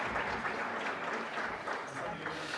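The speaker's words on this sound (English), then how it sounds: "A round of applause to our speakers." An audience applauds the speakers at the close of a finance careers panel, an even, continuous patter of many hands clapping at moderate volume throughout.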